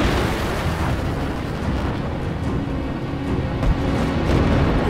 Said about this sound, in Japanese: なんか爆発の音近づいてない？